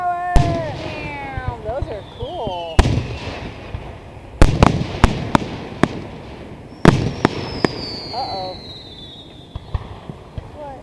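Fireworks at the 2011 Ambler display burst outdoors in a series of sharp, loud booms and crackles, some close and some farther off, with whistling rising shells and people's voices exclaiming in the background.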